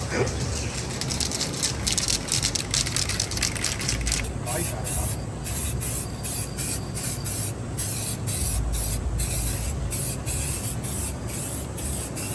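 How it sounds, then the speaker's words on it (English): Bursts of aerosol spray paint hiss in short repeated pulses while painting a car engine bay, close and loud, with faint background noise between sprays. "we're going to spray paint the engine bay"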